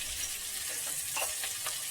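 Chopped onions with a little salt sauté over a raised flame for crab masala, making a short, even hiss of frying, close and fairly soft, with no speech.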